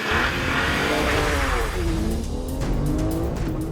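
A race car engine screams close and loud as it takes a corner at speed on a track lap, with the pitch sweeping and some tire squeal, continuous throughout.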